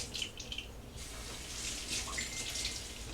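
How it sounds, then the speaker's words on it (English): Tap water runs and splashes into a water bottle held beneath the faucet for rinsing, a steady close gushing with slight shifts in pitch as the vessel fills. "Give it a good rinse."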